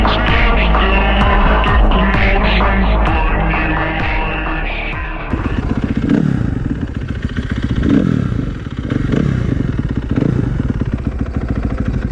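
After several seconds of music, a 2014 Kawasaki KX250F dirt bike engine runs close by with a loud, rough, throbbing idle and mild swells in revs.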